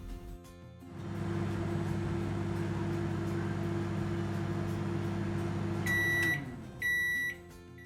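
A microwave oven set to 900 watts hums steadily with a low, even drone for about five seconds, then winds down and gives a few sharp electronic beeps as it finishes cooking a tutti frutti mug cake.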